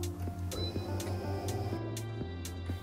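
Kala AppliKator flatbed laminator with an electric motor running, a steady low hum with tonal bands and regular ticking clicks about every half second, close and moderately quiet.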